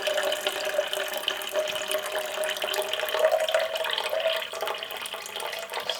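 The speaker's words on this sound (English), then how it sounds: "I'm just going to pour that directly in there onto the washing soda, the vitamin C powder." Liquid poured steadily into a container onto washing soda and vitamin C powder while mixing a plant-based photographic developer, a continuous close splashing and trickling pour lasting the whole stretch.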